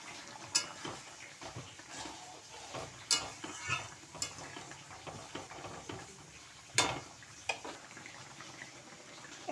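Lentil fritters drop into a pan of simmering potato curry with fenugreek, giving a soft steady sizzle broken by several sharp clanks and scrapes of a spoon stirring against the pan, close by and with no talk.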